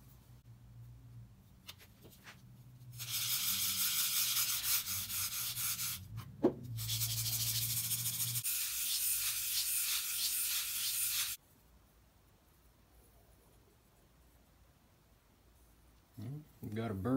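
The bevel of a century-old Stanley No. 5 plane iron is rubbed flat on an abrasive, producing two long bursts of close, gritty back-and-forth scraping separated by a pause, then quiet with brief handling clatter at the end.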